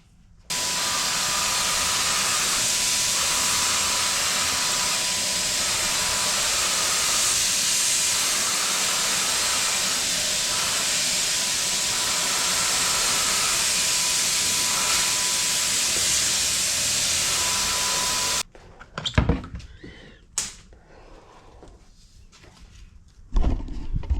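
A loud, steady pneumatic hiss of a spray gun painting a Ford Bronco runs without a break for nearly twenty seconds, then cuts off, leaving faint clicks and handling noises.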